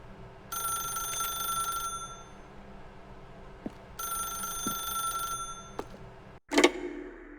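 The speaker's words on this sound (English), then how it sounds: "then pick up the phone." A telephone rings in the video game The Stanley Parable: two long, bright electronic bell bursts separated by a pause, followed near the end by a short clunk as the handset is picked up.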